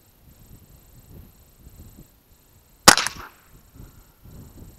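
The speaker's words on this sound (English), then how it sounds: "let's shoot some across the chronograph here" An old rifle cartridge is fired across a chronograph during ammunition testing, producing a single loud, sharp gunshot with a short decaying echo against quiet outdoor background noise.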